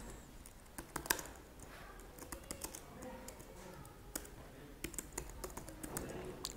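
Close, uneven bursts of keystrokes on a computer keyboard while text is entered in MS Word 2013, with short pauses between runs of typing and no talking over it.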